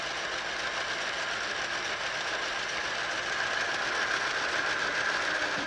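A small electric motor in a Lego Titanic Power Pack spins forward at higher speed, giving a steady, faint, high-pitched whir with a fine rattling texture that holds evenly throughout.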